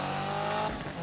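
Engine of a Subaru BRZ race car in the Need for Speed racing game, a loud, steady drone that shifts pitch partway through as the gear changes, with no talk over it.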